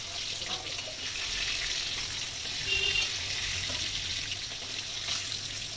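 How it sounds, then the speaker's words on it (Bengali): Bogo fish fry in hot oil in a pan, giving a steady crackling sizzle with small pops, close up and continuous, with no voices. "বাদ বাকি যে মাছগুলো রয়েছে এবার আমি ওগুলোকে ভেজে নেব"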